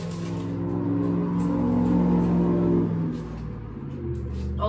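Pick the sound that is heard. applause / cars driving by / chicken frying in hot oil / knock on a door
cars driving by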